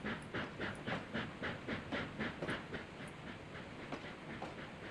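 A steam train running in the video game Trainz A New Era chuffs in a quick, even rhythm of puffs, fairly faint and continuous with no voices over it.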